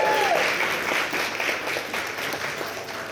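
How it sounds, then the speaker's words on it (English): Wedding guests give a round of applause for the bride, a steady wash of clapping from a roomful of people that stays fairly loud throughout. "Round of applause for the bride."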